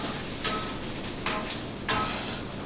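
Cherries cooking in warm butter in a pan for cherries jubilee, a steady soft sizzle with a few light clicks from stirring, close and continuous with no voices.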